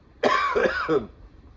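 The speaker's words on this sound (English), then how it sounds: "pardon me when I'm coughing" A single harsh cough from a chest cold, close and fairly loud, breaking into two or three rough, chesty pulses before stopping; no talk around it.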